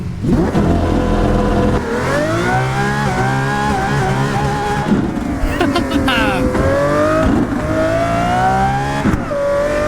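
A Porsche Carrera GT in a racing video game revs hard and loud, its engine note climbing and dropping through gear changes, with bursts of tire squeal and skidding.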